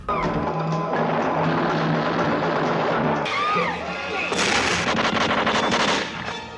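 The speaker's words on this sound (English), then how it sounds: "The noise for when the M16 guns go off have a different sound to them" Rapid bursts of M16 rifle gunfire rattle loudly and continuously, with sharp echoing cracks and shouting voices mixed into a dense battle scene from Dawn of the Dead.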